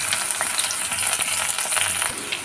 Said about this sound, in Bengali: রসুনটা হালকা ভাজা ভাজা হয়ে এসেছে